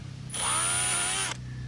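Power drill running on an ATV carburetor to clear a blocked fuel hole, one steady high-pitched whine lasting about a second, close and loud, starting and stopping abruptly over a low background hum.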